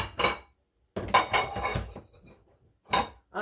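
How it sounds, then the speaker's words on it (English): Dishes being washed at a home kitchen sink produce several separate bursts of clattering pots, clinking cutlery and knocking plates, close and distinct, with brief quiet gaps between them. "In the kitchen doing dishes"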